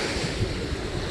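Ocean waves at a beach during a day of swimming and snorkeling, a steady loud wash of surf with wind buffeting the microphone and no talking.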